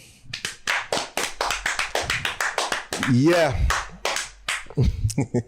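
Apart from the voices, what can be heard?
podcast hosts clapping hands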